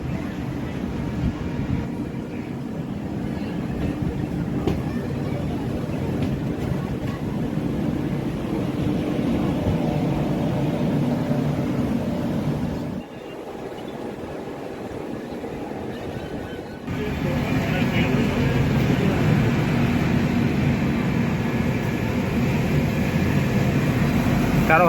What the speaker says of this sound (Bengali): হাওড়া রক্সল সুপারফাস্ট ট্রেন হাওড়া থেকে ছেড়ে বেরিয়ে যাচ্ছে।